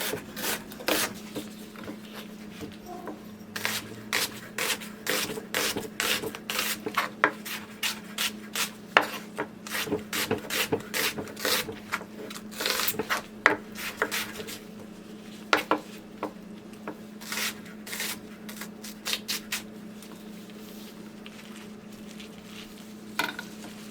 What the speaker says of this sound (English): I cut it in half like so, and then I just cut it this way.